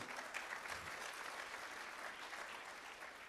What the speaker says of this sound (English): Round of applause for Steve.